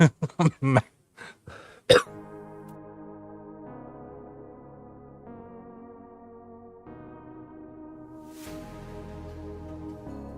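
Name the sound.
cough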